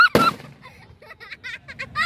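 A single sharp Diwali firecracker bang at the start, loud and sudden, then quieter outdoor ambience with a voice and some chirping tones.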